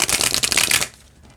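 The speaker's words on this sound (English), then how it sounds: "it shuffles overhand pretty well too" Brisk overhand shuffling of oracle cards, a dense papery riffle close up for about a second before it stops abruptly into quiet.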